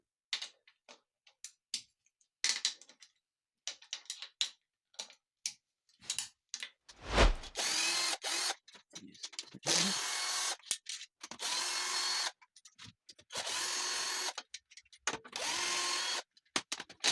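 A power tool loosens the clutch cover bolts on a motorcycle, a Brozz 250, in repeated short whirring bursts with brief pauses and a few clicks and knocks in between, loud and close.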